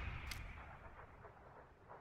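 Muffled, low booming gunfire in a video game, distant and faint, with a sharp crack near the start and rumbling reports rolling on after it.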